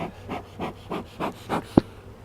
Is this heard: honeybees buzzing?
yes